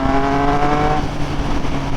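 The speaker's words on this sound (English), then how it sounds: "this exhaust sounds beastly" A Triumph Speed Triple 1200 RS motorcycle fitted with a Pro-Race GP-R3R exhaust revs hard and loud up close, its tone falling as the throttle closes partway through and then settling into a rough burble.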